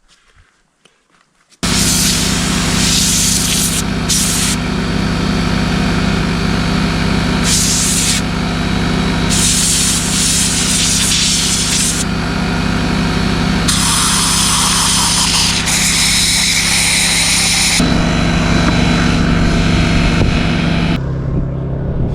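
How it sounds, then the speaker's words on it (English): Loud, continuous blast of compressed air from an air compressor blowing about four inches of dirt back in a new workshop, a steady hissing rush that starts abruptly, runs for about twenty seconds with brief shifts, then cuts off. "I can hook up the air compressor and I'll blow some of this dirt back"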